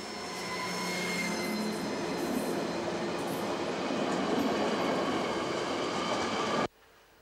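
A Deutsche Reichsbahn class 232 diesel locomotive departs Sandersleben station in Germany with an express passenger train in 1992, rumbling past with a loud, steady roar and a sustained engine drone, cutting off abruptly near the end.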